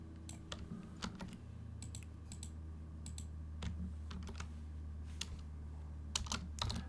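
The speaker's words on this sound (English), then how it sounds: "I'm going to type some of this up here" A computer keyboard clicks in quiet, irregular bursts of keystrokes over a low steady hum, the typing faint and close with short pauses between runs.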